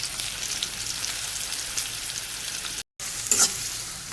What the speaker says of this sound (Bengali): পেঁয়াজটা লাল হওয়া পর্যন্ত একটু ভেজে নেব, রং পরিবর্তন করা পর্যন্ত আমি ভেজে নিচ্ছি।